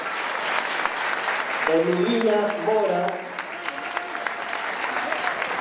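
An audience applauds performers at a live tribute show, steady moderate clapping throughout while a voice announces a name over it.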